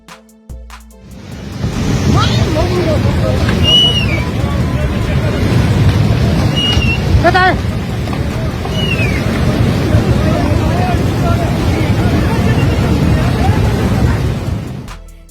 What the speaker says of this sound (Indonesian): Banjir bandang di Nepal.